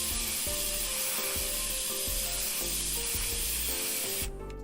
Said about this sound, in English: So for doing clouds, I tend to just do lots of little tiny pulses.